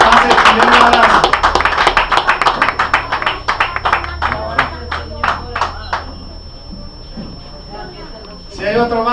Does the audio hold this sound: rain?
no